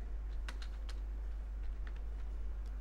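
Typing on a computer keyboard while entering text in MS Word: a few sparse, light key clicks spread out irregularly over a steady low electrical hum, quiet and close, with no talking.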